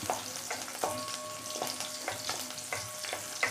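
Shallots sauté over a medium flame for green tomato chutney, a soft frying crackle broken by regular light stirring taps, with faint music behind.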